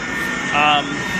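A low-flying plane from Orlando International Airport passes close overhead, its engine roar rising briefly beneath a person talking outdoors.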